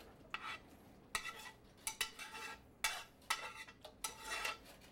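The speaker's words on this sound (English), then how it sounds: "We're going to add our vegetables right to this." Vegetables being stirred into a pan of beef broth, tomato sauce and bay leaves for a Cuban dish, a series of separate scraping and clattering utensil strokes against the pan over a faint low bubbling, close and alone.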